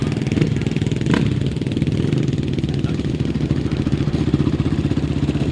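Loud, close 250cc solo grasstrack racing motorcycles idle and burble as they parade before a race, a continuous throbbing engine rhythm with a few rising revs near the start.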